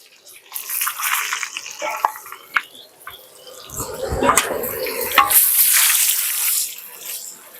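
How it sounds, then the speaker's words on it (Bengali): Bay leaf, dried red chilli and cumin seeds hit hot oil in a kadai for a Bengali village-style fish and egg curry, giving a broad crackling sizzle that swells and stays loud to the end. "কড়াই তেলটা গরম হয়ে গেছে, এবার ফোড়নটা দিয়ে নেবো"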